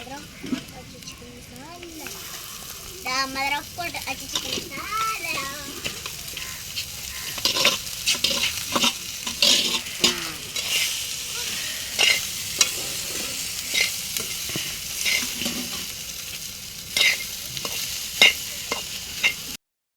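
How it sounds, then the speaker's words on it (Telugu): Egg fried rice being stirred in a sizzling pan, a steady frying hiss broken by repeated scraping, clattering spoon strokes, close and fairly loud, with someone talking over it at the start. "ఇవన్నీ కలిపేసి ఇప్పుడు రైస్ కూడా వేసుకుంటున్నాను"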